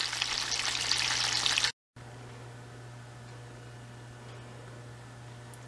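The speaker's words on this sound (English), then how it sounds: "Eggs frying in a pan." Eggs fry in a pan with a steady, close crackling sizzle, louder at first, then softening after a brief cut into a quieter continuous hiss under a low hum.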